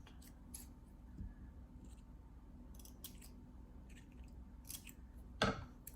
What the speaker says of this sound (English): You could also cut little notches in them as well to give them more of a different texture.